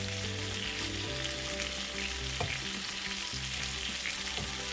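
Sardines (mathi) frying in a pan give a steady, close sizzle and crackle of hot oil, with soft stirring and scraping mixed in and no talking.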